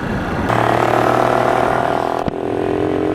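A 1966 Honda Cub C65 motorcycle idles with a loud, steady engine hum through a patched but still noisy exhaust, close by and continuous, with a brief dip near the end.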